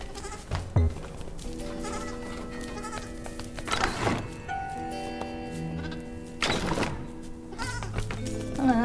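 Goats bleat repeatedly in the puzzle adventure game Creaks, several drawn-out cries spaced a couple of seconds apart over a steady droning, mechanical game background with occasional thunks.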